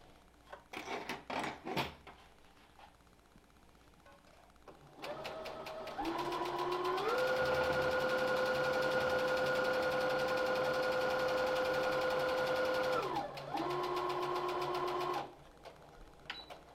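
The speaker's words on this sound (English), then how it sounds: "we're going to put the inside fabric on top of your colored fabric, and we're going to sew" A sewing machine stitches fabric in one long steady whirring run, close and moderately loud. A few clicks and handling knocks come before it, and a shorter burst follows.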